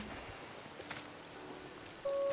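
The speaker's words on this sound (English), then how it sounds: "I don't like when it's raining on Animal Crossing because it's very dark." Steady rain falls in the video game Animal Crossing, an even hiss of drops spread across the clip, with a sustained game tone entering near the end.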